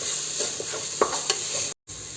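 Stirring turmeric powder into a vegetable biryani base in a pan, giving soft scraping strokes with a couple of sharper spoon knocks over a faint steady sizzle.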